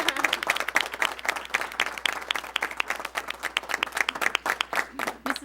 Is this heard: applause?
yes